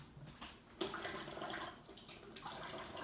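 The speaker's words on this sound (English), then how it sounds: "I'm going to add warm water" Warm tap water runs steadily into a bowl while Rewana bread dough is being made, a continuous close splashing stream with a sharper onset near the start and no talk over it.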